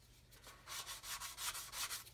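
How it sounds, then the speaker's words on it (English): Sandpaper rubs over a plastic model aircraft wing in quick, short back-and-forth strokes, faint and close, with a low steady hum underneath. "So you can see I'm sanding down here now"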